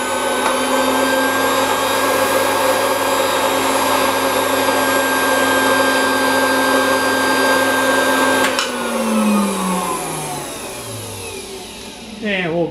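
Hamilton Beach Model 40 triple milkshake mixer whirring steadily at high speed with a strong motor whine and hum, then switching off and winding down with falling pitch near the end, close and loud.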